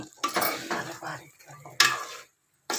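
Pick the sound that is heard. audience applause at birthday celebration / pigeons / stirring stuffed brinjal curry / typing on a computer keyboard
stirring stuffed brinjal curry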